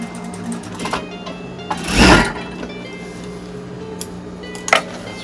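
A domestic sewing machine runs one short burst of stitching to tack the pleats of a fabric face mask, loud and close, with quieter clicks and handling noises before and after.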